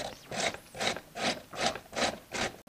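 A cucumber is grated by hand in six steady, rhythmic rasping strokes, close and fairly soft, each scrape followed by a brief pause, with no talking.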